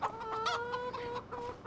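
Chickens cluck steadily in the farming game Farming Simulator 25, a busy, moderately faint chorus of overlapping clucks and short calls over a soft ambient bed, with no talk.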